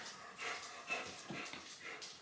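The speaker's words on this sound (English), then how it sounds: "My dogs keep coming in." A dog indoors whimpers and pants faintly, with soft breathy huffs and small whines coming in short bursts.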